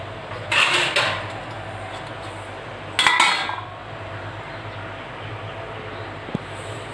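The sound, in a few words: covering the sambar pot with a plate lid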